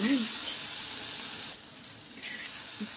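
Bitter gourd curry sizzles and fries in a pan, a faint steady crackle with a brief stir and a soft clink.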